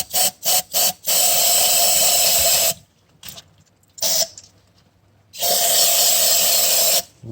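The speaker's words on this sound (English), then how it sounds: "All right, brake clean time." Brake cleaner sprayed onto the fuel filter bowl of a Yanmar 3TNV88 diesel engine, a few short hissing bursts followed by two long loud sprays, close up, with no speech.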